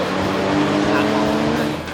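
A Mazda ND Roadster race car launches from the line at Tsukuba circuit with wheelspin, a loud steady engine drone and tyre noise under an excited commentator's voice.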